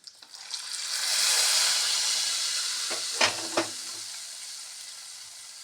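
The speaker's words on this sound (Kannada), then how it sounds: "ಒಗ್ಗರಣೆ ಹಾಕಿಬಿಡೋಣ ಈಗ" Tempering spices hit hot oil for a raw-banana palya dish, bursting into a loud close sizzle that swells, holds, then fades while a few sharp crackles and clinks of a spoon punctuate the hiss.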